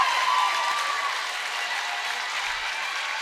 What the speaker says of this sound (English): As the crowd erupts here in Arapahoe's gym.